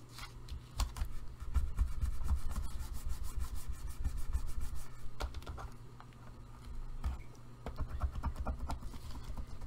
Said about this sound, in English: And burnish that so it sticks.